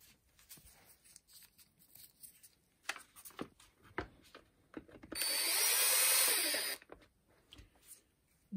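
Small clicks and taps of parts being handled while servicing a TOUA GSN50 screwdriver, followed by one loud, close burst of whirring lasting under two seconds as a part is tightened, then quiet handling again.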